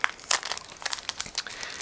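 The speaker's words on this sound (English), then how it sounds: "So this is a resealable plastic bag, that's why it should be quick to open." A resealable plastic bag being opened, close crinkling and crackling of plastic in short bursts for under two seconds.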